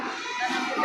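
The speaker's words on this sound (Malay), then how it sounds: "ini banyak kambing jantan atau kambing bandot di pasar hewan Gelompang Payung ini" Goats, many of them billy goats, bleating at the Geulumpang Payong livestock market in Bireuen, several overlapping calls close by, with crowd chatter underneath.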